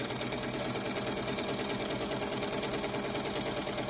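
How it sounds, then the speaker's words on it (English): A sewing machine stitches a quilt block in a steady, fast, even mechanical rhythm, close and continuous throughout, with no talking over it. "I just sew around directly on the line."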